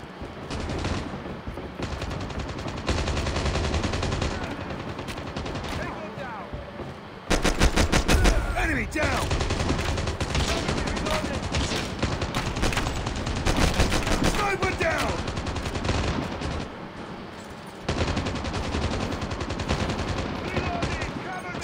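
Rapid bursts of RPD machine gun fire in the mobile shooter Call of Duty Mobile, loud and nearly continuous with dense overlapping gunshots and brief pauses between volleys.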